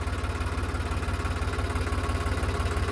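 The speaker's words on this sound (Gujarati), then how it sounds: "આ બિપિનભાઈ ટ્રેક્ટર એમનું ટ્રેક્ટર આપણે ખાલી આંટો મારવા આવી" A tractor engine idles in a cotton field, a steady, close, low rhythmic chugging throb running evenly throughout with no voices.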